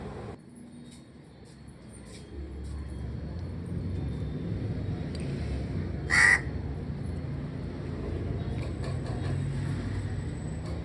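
A crow caws once, sharp and fairly near, over a steady outdoor rumble of traffic, with faint scattered bird calls and no talking.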